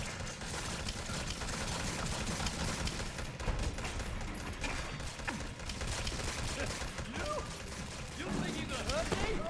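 Rapid turret gunfire in Resident Evil 7 DLC, a dense stream of faint, crackling shots running throughout, mixed with game noise and scattered impacts.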